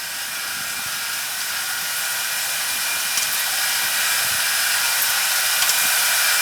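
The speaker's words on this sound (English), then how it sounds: "now I'm drilling it out" A metal lathe drills out a part for a Honda 200S GY6 conversion, a steady high-pitched whirring hiss that holds constant and grows slightly louder, with faint mechanical ticks and no talking.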